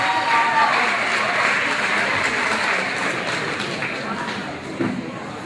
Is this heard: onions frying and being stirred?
no